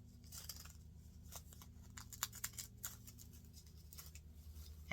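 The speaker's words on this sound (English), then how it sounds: "And then just get your snips" Hand snips cutting through folded paper for a paper allium flower, a series of soft, close crisp snipping and rustling clicks scattered irregularly over a quiet background.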